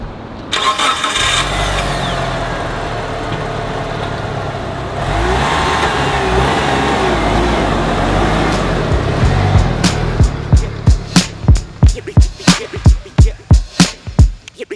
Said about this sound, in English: Time for our first drive in the Evo 5.